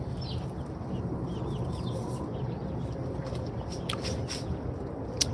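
Backyard chickens cluck and murmur softly over a steady bed of outdoor noise, with a few brighter squawks and chirps rising near the end; the flock sounds close but quiet, with no one speaking.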